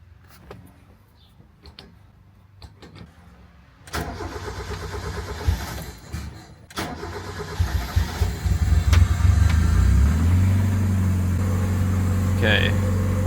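A Mazda Miata's engine cranks and catches after a few quiet clicks and rustles, then settles into a steady, close idle with a low rumble.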